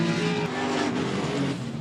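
A V8 drift car slides through a horseshoe corner during a tandem drift competition in Colorado, with a loud, steady engine roar and tire noise that hold at close range without a break.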